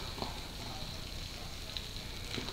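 A foaming sugar mixture is stirred after baking soda has been added, giving a soft continuous fizzing and crackling hiss with a few faint scraping stirs, close and steady.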